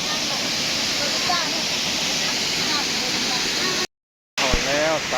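Tad Phu waterfall in southern Laos, a constant broadband roar of rushing water with voices talking over it, briefly cutting out near the end before resuming.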